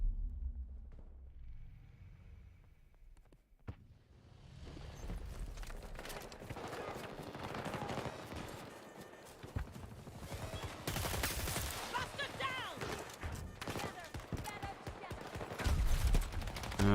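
Battlefield 2042 combat gunfire, starting quiet and swelling into dense bursts of automatic shots with scattered single cracks, mixed with battlefield noise and steady loudness through the later half.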